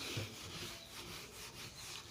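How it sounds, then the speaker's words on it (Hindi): Steady rubbing and scraping of a duster erasing writing from a board, a continuous soft rasping texture with gentle surges, fairly quiet with no voices. "थोड़ा सा मैं एक बार रब कर देती हूँ"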